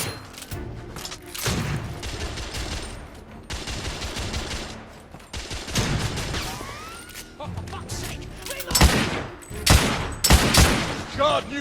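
Shotgun blasts from guards in the video game The Order 1886, several sharp booming shots spaced irregularly during a tense firefight, loud and near, with crashing impacts and game voices in between.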